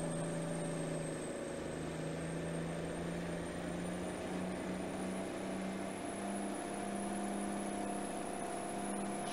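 A power truck in Farming Simulator 2019 drives uphill at full throttle, its engine holding a steady, faint droning hum with a constant whine above it and no speech.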